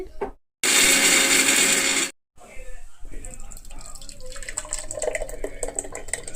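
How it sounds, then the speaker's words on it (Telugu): A kitchen mixer grinder whirs loudly in a short continuous burst while blending curry ingredients with sugar. It stops abruptly, and quieter kitchen clatter and talk follow. "ఇప్పుడు మిక్సీ పట్టమంటుంది"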